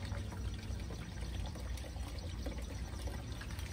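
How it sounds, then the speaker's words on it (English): Water runs down a hydroponics tube onto small baskets, a faint, steady pouring trickle with no voices. "and starts running water down our tube. I can hear it."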